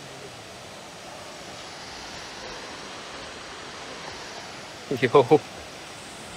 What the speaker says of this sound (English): which is the Florence Falls. Beautiful waterfall.